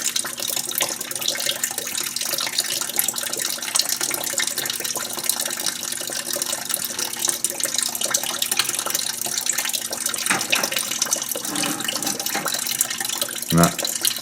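Coolant drains from the radiator and engine-block petcocks of a 1950 Buick Roadmaster, giving a steady, hissing splash and trickle that runs without a break, with a brief clatter near the end.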